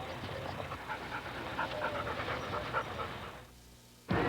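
A dog pants steadily and fairly close for several seconds, the quick rhythmic breaths stopping briefly before a sharp burst near the end.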